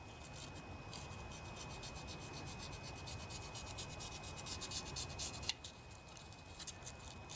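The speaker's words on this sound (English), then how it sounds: "you'll want to lightly sand off this carbon ring in here" Rolled sandpaper rubs the carbon ring off a cylinder of a vintage 8 hp Briggs and Stratton engine, a continuous rapid scratchy rasping up close, with a sharp tap near the middle.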